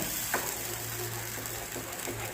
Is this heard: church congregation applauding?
no